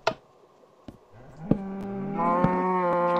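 A Minecraft cow moos in a loud, drawn-out call that rises and holds, with sharp block-placing clicks from the game scattered around it.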